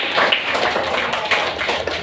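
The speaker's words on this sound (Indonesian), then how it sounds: "Tepuk tangan buat Ayuni yang sudah" A classroom of pupils claps loudly and steadily for a student's persuasive speech, a dense, continuous patter of many hands close by, with no talking over it.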